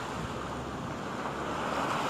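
Sea waves roll in at Tramore beach in Ireland on a windy day, a steady broad roar of surf mixed with gusting wind buffeting the microphone, continuous and fairly loud with no voices.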